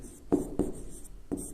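Chalk or marker strokes on a board during a physics lesson, three short scratchy taps spaced about a quarter to three quarters of a second apart, close and fairly quiet.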